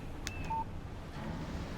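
Brief electronic phone alert tones in the Alan Wake game, two short beeps sounding in quick succession over a steady low background hum, with no talking.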